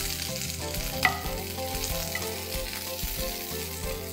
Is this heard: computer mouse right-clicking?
no